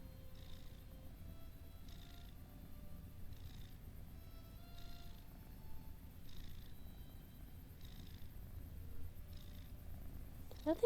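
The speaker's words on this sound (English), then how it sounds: "Thief is famous for his meows and his purrs." A cat named Thief purring close up, a soft continuous rumble pulsing in a slow regular rhythm of breaths, quiet and alone.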